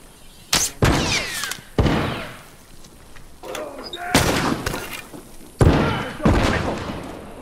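A grenade detonates in The Last of Us multiplayer, a loud broadband blast amid several sharp, heavy impacts and bursts of gunfire spread across the scene, with game character voices calling out between them.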